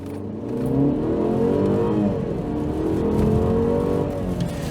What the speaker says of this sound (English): let's do a little acceleration right here, just so you can get an idea of how powerful this thing is